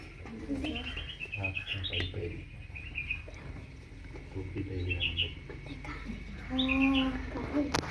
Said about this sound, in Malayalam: കുറെ കിളിയുണ്ട്.